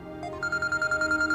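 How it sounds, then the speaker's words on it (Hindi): A phone rings for an incoming call in a domestic drama scene, a steady electronic ringtone pulsing in quick regular beats over a sustained tonal backing, loud and close. "मलिया का फोन आ रहा है।"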